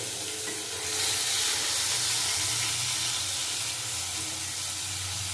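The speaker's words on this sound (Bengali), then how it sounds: "আমি একটু বেগুনটা ভালো করে ভেজে নেব" Eggplant frying in just a little oil in a pan: a loud, close, steady hiss with a faint crackle that swells slightly and keeps going, with no talking.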